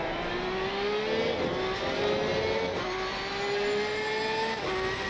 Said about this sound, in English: So just cruising around on this last lap